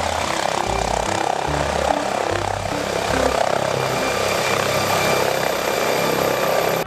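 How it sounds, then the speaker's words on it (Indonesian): A helicopter's rotor and engine drone steadily without speech, with heavy low-pitched beating pulses in the first half that ease into a smoother continuous whine. "di sini ada helikopter juga"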